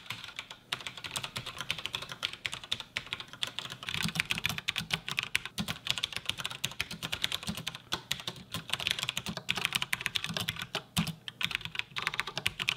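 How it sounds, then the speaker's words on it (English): Typing on a computer keyboard decorated with Lego tiles: a fast, continuous run of crisp, close key clicks and clacks with brief pauses, loud and alone. "Decorating a keyboard with Legos."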